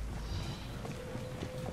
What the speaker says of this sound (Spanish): No me digas que se me ha ido el caballo